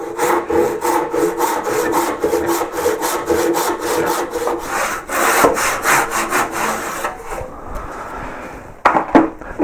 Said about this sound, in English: Now I've made my saw cuts, which are across the grain.